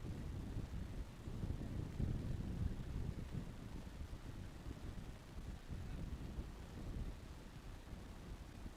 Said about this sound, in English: the wind picks up once again